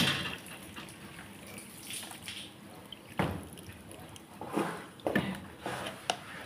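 Corn kernels being washed by hand in a vessel of water, with irregular sloshing, splashing and dripping at close range, swelling in a few louder bursts toward the end.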